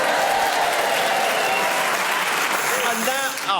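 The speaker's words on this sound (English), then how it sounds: "Let me press the button marked spontaneous applause." Canned spontaneous applause played back from a tape machine on a radio panel game, a steady dense burst of clapping that fills the clip loudly and then tails off at the end.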